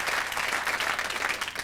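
Scattered but steady applause from a theatre audience at an improv show, a short burst of many hands clapping close by with no talk over it.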